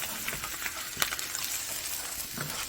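Burger patty searing in a hot pan for a carnivore Salisbury steak, with a steady broadband sizzle and a few soft scrapes and clicks of a spatula working the browned bits off the bottom.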